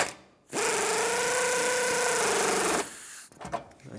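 Power driver tightening bolts on the rear passenger-side outer bumper end of a 1996-2002 Toyota 4Runner: one steady, close whirring run of about two seconds, followed by a few faint clicks and handling noises.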